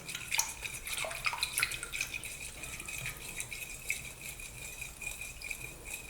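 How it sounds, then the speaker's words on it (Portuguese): Sugar stirred into water in a container to dissolve it for homemade bread dough, giving a steady soft watery swishing with light clinks throughout, no talking. "Agora mistura aqui o açúcar com a água até dissolver esse açúcar."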